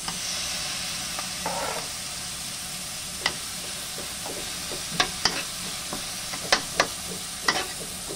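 Chopped tomatoes sizzling and frying in a pan of vegetables, with a steady hiss broken by sharp scrapes and clacks of a spoon stirring, close and moderately loud with no voice.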